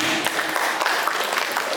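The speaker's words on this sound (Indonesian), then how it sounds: "Tepuk tangan untuk kita semuanya" An audience claps at a new-parents orientation for Al Irsyad Al Islamiyah boarding school in Purwokerto, a steady spatter of applause lasting a couple of seconds with some murmuring mixed in.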